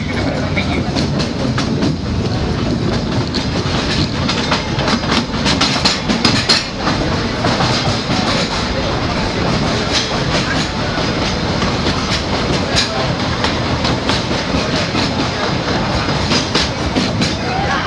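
Disneyland Railroad train running on the Grand Circle Tour: continuous loud rumble and rhythmic clickety-clack of wheels on track from on board, steady throughout with faint voices underneath.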